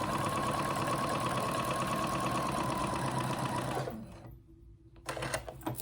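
Sewing machine stitching a dart on the back of a moto jacket bodice, a loud rapid continuous whirring run for about four seconds, then it stops, followed by brief handling noises.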